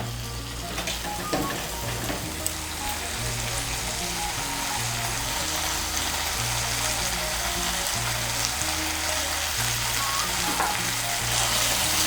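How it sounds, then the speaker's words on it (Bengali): Ground spice masala with coriander paste and salt fries loudly in a pan for an okra and gram flour dish, a constant dense sizzle with a low, steady rumble beneath it. "মিশিয়ে নিয়ে মশলাটাকে ভালো করে কষিয়ে নেব।"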